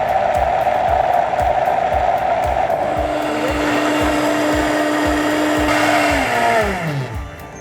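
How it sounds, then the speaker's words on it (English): Countertop blender whirring through a three-ingredient tofu chocolate pie filling, a loud steady motor drone with rhythmic chopping pulses, the pitch shifting as the mix thickens, then winding down at the end. "our 3 ingredient pie filling is in the blender. All we have to do is blend."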